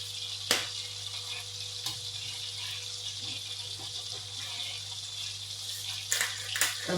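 Garlic fries in a pan with a steady, bright sizzle and crackle throughout, broken by a few sharper pops near the start and toward the end.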